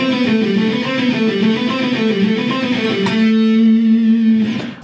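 A guitar picking drill running through a scale-sequence pattern: a steady stream of evenly picked single notes, close and clear, ending on a held note that rings out before a brief final noise. No talking.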